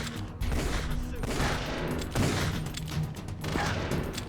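Gunfire in the video game Metal Gear Solid: The Twin Snakes: continuous bursts of automatic fire rattle throughout at close range, loud and busy, with a voice faintly present beneath the shooting.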